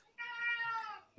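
A cat gives a single drawn-out meow lasting about a second, clear and fairly close, in a quiet room, followed by a brief faint thump.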